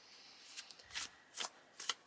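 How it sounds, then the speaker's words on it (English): Tarot cards are shuffled in several quick riffling bursts, soft and close, with short gaps between each pass and no talking. "I'm going to shuffle the cards so you can choose your number."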